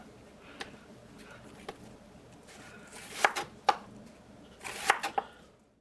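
A knife cuts through a Vidalia onion on a board, a few scattered soft chops followed by two quick clusters of sharper slicing knocks, close by, with talk in between.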